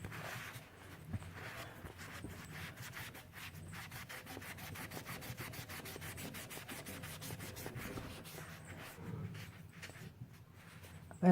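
Steady close rubbing and scrubbing as grime is worked off a 1950s doll, including its hair, a continuous soft friction texture running throughout with no talk over it.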